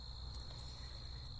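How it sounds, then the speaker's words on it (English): Crickets chirping steadily in a quiet vineyard, a continuous high, even trill heard faintly at a distance, with no talking. "if you're quiet, you can hear the crickets"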